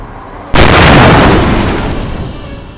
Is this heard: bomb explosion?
yes